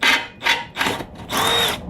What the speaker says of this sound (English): That's how you know it's drilling.